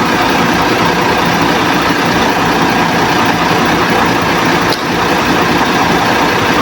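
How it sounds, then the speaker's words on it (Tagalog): Truck engine idling close by, a loud, unbroken broadband drone that holds steady for several seconds with one brief dip, no voices. "Patayin muna natin yung truck natin."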